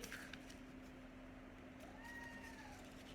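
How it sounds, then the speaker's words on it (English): A pet cat meows softly indoors, one faint drawn-out rising call late in the moment over a steady background hum, distant and quiet. "I have a kitty who's singing me a song."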